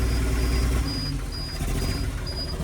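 An old engine idles unevenly and roughly, a steady low rumble with a faint whine running through it, close and continuous, no voices.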